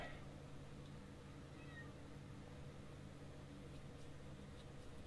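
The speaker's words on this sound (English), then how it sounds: "Stupid kitten has been howling in the background for the last fucking 5 minutes." A kitten meows and howls faintly in the background, its thin cries rising now and then over a steady hum and constant low noise.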